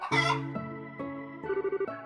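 Chickens cluck in the video game Trails in the Sky the 3rd: a loud burst of calls, then several sustained tonal clucks, ending in a rapid series of short pulses, with no voices over them.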